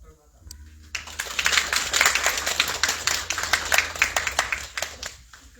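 An audience at a devotional gathering claps in a dense, steady patter that starts abruptly and carries on for several seconds, with speech mixed in.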